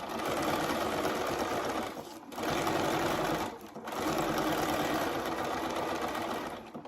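A sewing machine stitching board shorts with a very short stitch, a loud close mechanical whir running in three bursts separated by brief pauses, with no talk.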